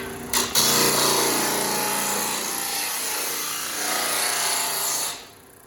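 A disc sander fitted with 60 grit paper grinds steadily through material with a loud, continuous abrasive roar after a brief start, then stops abruptly at the end.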